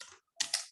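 A few quick keystrokes on a computer keyboard while entering a terminal command, crisp close clicks in under a second, alone.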